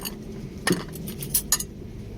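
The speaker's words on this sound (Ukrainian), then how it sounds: "Виделки." Stainless steel forks clink together in a few light, sharp taps, spaced irregularly over a quiet background hum at a flea market.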